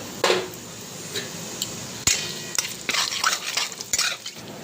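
Dry red chilies, bay leaf, whole garam masala and white cumin crackle faintly in hot oil in a pan, with sharp spoon clinks and scrapes against the metal punctuating a soft background sizzle.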